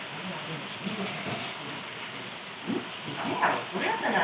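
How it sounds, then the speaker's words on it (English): Steady rain hisses in the background while a person talks over it at a cafe on a hillside near Mount Aso, Japan, the patter soft and continuous throughout. "It's a bit rainy"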